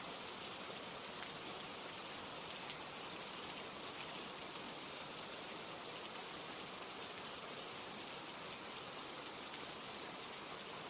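Steady rain falls without pause, a dense even hiss spread across the whole clip at a soft, constant level, with no voices and no breaks in the downpour.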